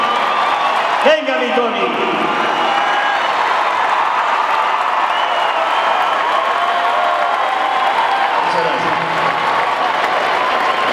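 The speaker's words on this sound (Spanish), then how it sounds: "Bonito y cariñoso el aplauso." Concert audience applause inside a large arena, a continuous roar of distant clapping and cheering, with a brief spoken voice near the start rising over it.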